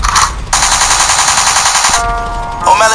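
Rapid bursts of gunfire, like a machine gun sound effect, in two clipped volleys, sharp and loud, separated by a brief pause.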